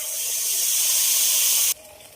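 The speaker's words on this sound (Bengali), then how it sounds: "মশলাটা একটু হালকা ভাজবো।" Yogurt and spice paste hitting hot oil for eggplant curry, a loud steady steam-laden hiss that runs for under two seconds, then drops abruptly to a faint sizzle.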